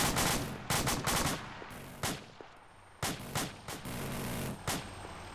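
Gunfire in ARMA 2 on a snowy map: several sharp shots and short bursts spaced irregularly over five seconds, fairly close and loud against a quiet background, no speech.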